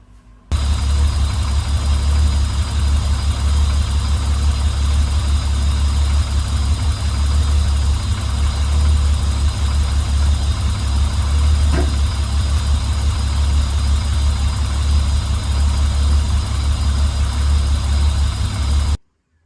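A Holden VL turbo engine starts and settles into a steady, loud idle that runs close by for nearly twenty seconds, with no talking over it.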